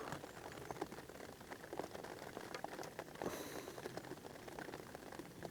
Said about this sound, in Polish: będę słuchał deszczu grającego na pałatce